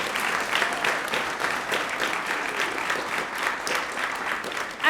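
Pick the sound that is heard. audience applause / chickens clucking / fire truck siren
audience applause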